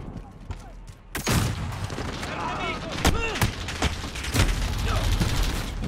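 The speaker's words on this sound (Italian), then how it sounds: "Tutto il caricatore mi ha tirato." Rapid burst of gunfire from an enemy emptying a full magazine in Call of Duty: Modern Warfare, a sharp opening shot followed by a run of loud, closely spaced cracks amid general battle noise.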